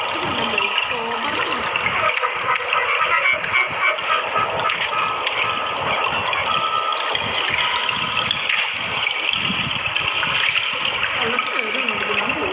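Video game character wading through water while escaping a school, a constant sloshing, splashing wash that fills the whole stretch with no clear pauses.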